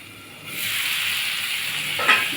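Ridge gourd sautéing with chili powder in a covered pan, a steady sizzling hiss that swells up after a quiet start and holds continuously, close and moderately loud, with no talking.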